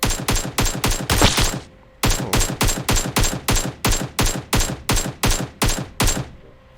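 AK rifle fire in PUBG Mobile: a rapid burst lasting almost two seconds, a brief pause, then a long steady string of evenly spaced shots, loud and punchy.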